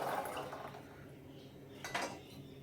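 Soaked chickpeas are tipped into a metal pressure cooker, giving a soft pouring rattle with light metallic clinks and a wet slide, faint and close, with no voices.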